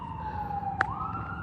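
Emergency vehicle sirens approach an accident scene involving a school bus and a pickup truck, a steady wailing tone sliding slowly down and back up, moderately loud over low road rumble, with a brief sharp knock partway through.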